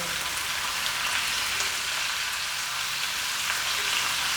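Pork belly stir-frying with Chinese five-spice, a steady, loud, dense sizzle and crackle running continuously from start to finish with no voices.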